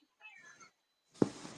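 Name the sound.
house cat meowing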